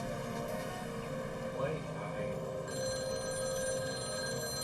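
A telephone rings steadily with a bright electronic bell tone, a faint continuous ringing heard at moderate distance.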